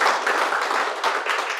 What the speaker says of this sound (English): a big round of applause to all of you all gathered here